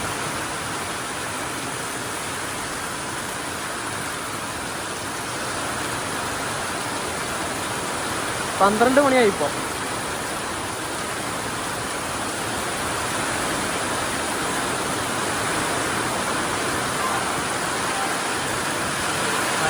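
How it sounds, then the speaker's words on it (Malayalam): Heavy rain with strong wind heard from a moving Kerala to Mumbai express train, a dense steady roar of rain and rushing air, with a short burst of a voice partway through. "നല്ല തകർപ്പ മഴ. നല്ല കാറ്റുമുണ്ട്."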